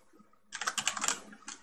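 Keys on a computer keyboard clatter in a short burst of close, quick taps as a small code comment is typed, with a brief pause before one last tap.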